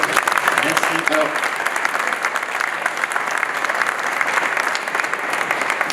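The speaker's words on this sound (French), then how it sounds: "Bravo, on peut applaudir." Applause at an awards ceremony for installers, a dense, even wash of clapping from a crowd lasting throughout, with a voice briefly heard near the start.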